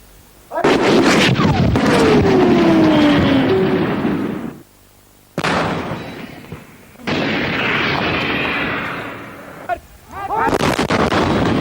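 Indian Army tank guns fire on a range: huge booming blasts, each with a long rumbling roll and whine of rushing air, several in a row with short gaps between them, very loud and close.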